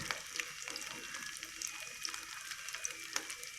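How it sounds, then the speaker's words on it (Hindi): Gola kababs frying in oil over a medium-low flame, a soft, steady sizzle with faint crackles and small pops scattered throughout, quiet and continuous with no talking. "इनकी साइडों को चेंज करते हुए हम ये फ्राई कर रहे हैं"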